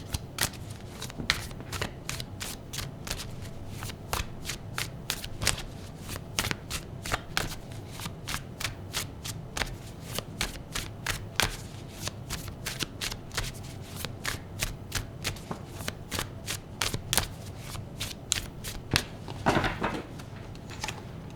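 Tarot cards being shuffled continuously, a steady rapid riffle of crisp paper flicks up close at moderate volume with no voices over it.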